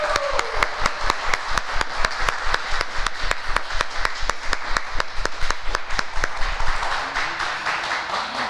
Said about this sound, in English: Please give everybody another round of applause.